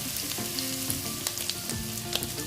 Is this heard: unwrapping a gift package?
no